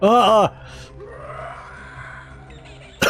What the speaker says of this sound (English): The screams of the undead haunt me still.